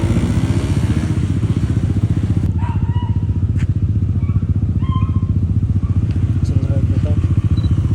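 A Yamaha Aerox motorcycle with a spinning radiator fan idles close by at an endurance ride event, its engine giving a steady, loud, pulsing rumble that runs unbroken throughout, with faint clicks and background sounds above it.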